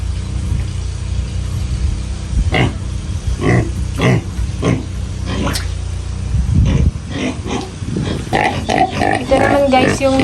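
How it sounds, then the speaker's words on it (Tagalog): Native pig grunting close by on a farm in a rural field, a series of short, rough grunts spaced irregularly, with people talking over and between them. "native na ano mangya, native na mangya, native baboy, native na baboy"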